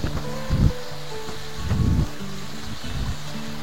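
The Pabelan river flows near its meeting with a larger river, a steady broadband rush of water with a few deeper gusts of wind-like rumble rising and fading over a few seconds, with no voices.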